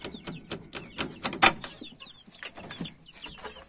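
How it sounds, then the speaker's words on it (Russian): Young chickens given as a gift cluck and peep in a quick, irregular run of short calls close by, with no talk over them. "тут цыплятки, те, что подарил мне брат."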